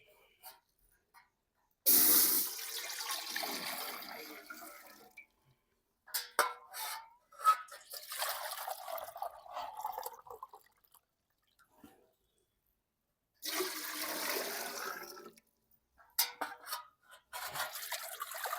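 Water poured from a small pot into a cooking pot in a home kitchen, two and a half measures for boiling, heard as separate splashing pours with quiet pauses between them.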